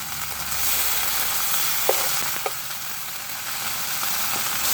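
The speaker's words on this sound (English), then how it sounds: "The bacon is frying up rather nicely" Dollar Tree turkey bacon strips frying in a pan, a steady close sizzle with a few light taps from spreading the pieces out, no talking.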